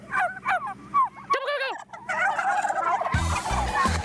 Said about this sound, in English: So turkeys don't rank very high on the intelligence level